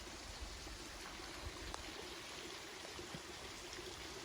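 A large natural waterfall near springs makes a steady, broadband rush of falling water, constant and moderately distant throughout with no voices.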